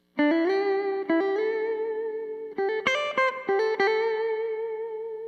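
A distorted electric guitar plays a quick lead phrase of several picked notes, some held with wavering vibrato, bright and close with no talking.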